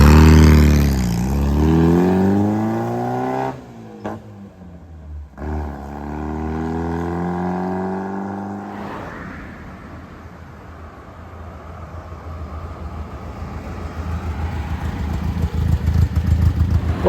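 A 1965 Triumph Spitfire Mk 2, a small-capacity classic roadster, driving: its engine note climbs through rising and falling rev sweeps with brief gear-change dips, then settles into a rougher, steady drone with road and wind noise.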